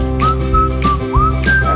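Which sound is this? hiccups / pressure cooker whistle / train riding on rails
pressure cooker whistle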